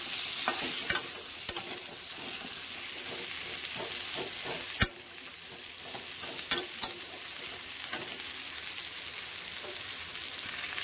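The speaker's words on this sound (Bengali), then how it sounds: "ভালো করে নেড়ে করে সাঁতলে নেব।" Steady oily sizzling of vegetables being sautéed in a pan, with a spatula scraping and clacking now and then as they're stirred; no voices.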